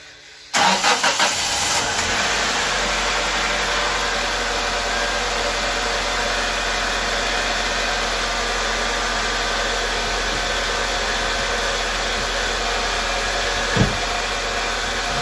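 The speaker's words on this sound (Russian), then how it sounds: "Давайте попробуем еще раз завести." A car engine catches after a brief crank and settles into a loud, steady, close roar that runs without a break, with one small knock near the end.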